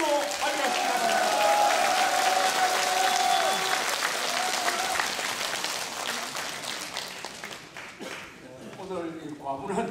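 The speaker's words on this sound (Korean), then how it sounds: "우리 조갑재 선생을 대국 시민의 박수와 함성으로 맞이하십니다" A crowd at a Busan rally welcomes a speaker with loud applause and cheering, full and sustained at first, then thinning and fading as a voice begins to speak.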